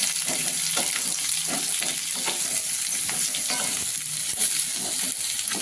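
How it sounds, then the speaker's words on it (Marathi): Pumpkin sautéing in a hot pan for a pumpkin raita, a steady loud sizzle with repeated stirring scrapes throughout, no voices. "ते आपल्याला आता भोकळा टाकायचा आहे आपण असं चांगला असा परतून घ्यायचं आपल्याला"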